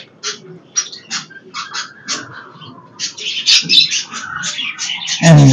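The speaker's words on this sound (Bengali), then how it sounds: "দেখেন আমার একটা কবুতর" Pigeons in an outdoor loft give repeated short calls with faint rustling movement, ending in a louder clatter nearby.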